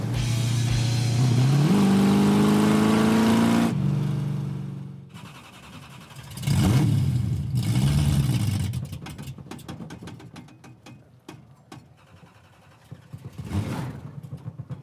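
A Coronet car engine revs while driving, rising in pitch early on and then surging and easing in uneven bursts. The engine is close and fairly loud, with no talk over it.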